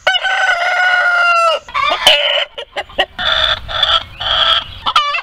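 A chicken crows and clucks up close and loud, with one long drawn-out crow followed by several shorter bursts of crowing and clucking with brief gaps between.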